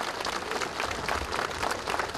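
Sustained applause from an outdoor crowd at a historical battle reenactment in Nysa, steady dense clapping throughout with no pauses.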